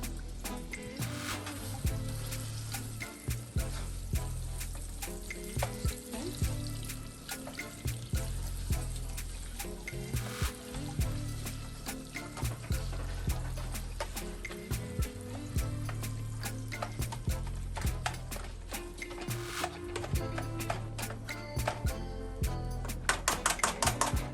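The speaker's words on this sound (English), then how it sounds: "This is the best tool ever when it comes to chopping ground meat." Rapid, repeated tapping and scraping of a chopping tool breaking up ground meat in a pan, with a constant sizzle underneath, continuing steadily without talk.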